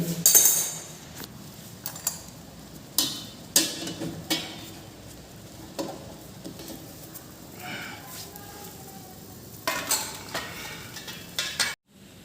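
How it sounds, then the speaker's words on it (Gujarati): A perforated steaming plate is lifted off a metal pot after cooking Gujarati colocasia-leaf patra, giving scattered light metallic clinks and knocks, moderately close, with quiet gaps between them. "ડાયરેક્ટ આપણે આ કાણાવાળી થાળી છે ને એને ઉતારી દઈશું"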